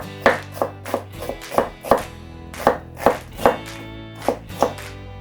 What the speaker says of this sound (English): Slice onion.